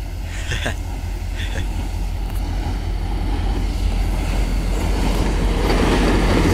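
A CSX C770 freight train passes westbound beneath the Skillman Road bridge, a loud, steady, close rumble with faint wheel noise, heard continuously throughout.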